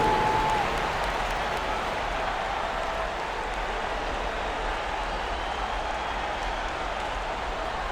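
Basketball arena crowd at an NBA playoff game between the Cleveland Cavaliers and Indiana Pacers, clapping for the Pacers during a timeout: a steady, dense wash of applause and crowd noise that holds evenly throughout.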